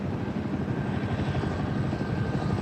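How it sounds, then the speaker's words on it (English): A large helicopter drones steadily overhead, its dense rotor thump and engine roar loud and continuous throughout with no voices. "I can hear a helicopter, but I don't see it yet"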